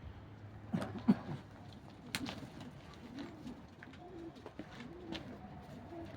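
Soft pigeon coos roll along in repeated low, rounded calls, fairly quiet, with a few faint knocks and rustles in between.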